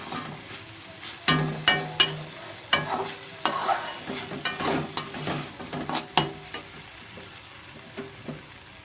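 Okra masala with chopped onion frying on a low flame in a kadai, with a soft steady sizzle under repeated sharp scrapes and knocks of a spoon stirring against the pan, close up and without speech.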